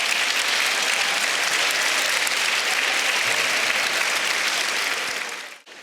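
Sustained, dense audience applause in a hall during a Catholic priest's talk show, loud and steady throughout before cutting off abruptly near the end.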